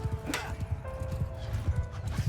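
Cavalry horses charge in the medieval battle game Bannerlord: steady clip-clop hoofbeats with a whinny, under battle noise and tonal game music, while a voice talks over it.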